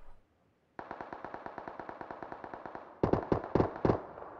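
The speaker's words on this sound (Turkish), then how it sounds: "Arkalardan gelen birkaç silah sesi bu arada." Automatic gunfire in a battle royale video game match: a rapid, steady burst of shots, then a few louder, heavier volleys, with no voices.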